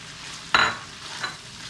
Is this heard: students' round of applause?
no